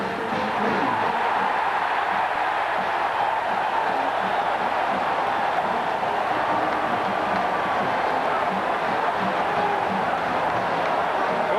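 A college football stadium crowd of close to 107,000 roars steadily as Michigan takes the field against Penn State, a dense, continuous wash of cheering noise that stays loud and unbroken throughout.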